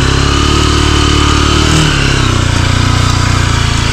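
A motorcycle with mud-caked tyres runs on muddy ground in Vietnam, its engine loud and close with a steady throbbing idle and a brief rev near the middle, no talk.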